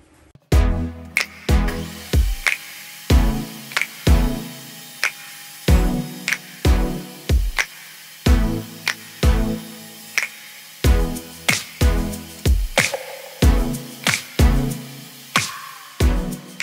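A hand saw cuts wooden pieces for a dovetail box lid in repeated sharp, rhythmic strokes, close and fairly loud with short pauses between bursts, and no talk.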